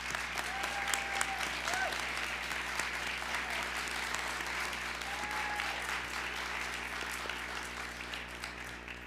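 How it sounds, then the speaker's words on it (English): A ceremony audience at a nursing pinning event applauds clinical and lab instructors, a steady sustained round of clapping from a sizeable crowd filling the room at moderate level, with faint voices mixed in. "if they could stand up and take a round of applause"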